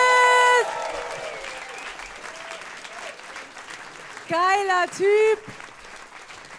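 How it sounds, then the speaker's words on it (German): Comedy club audience breaks into brief applause and cheers, first a short burst, then after a pause a voice speaks and whoops, followed by two more loud bursts of clapping and cheering from the crowd. "Applaus"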